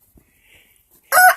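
An Isbar and Brahma cross rooster crows once, loud and close, in a short burst at the end after near silence.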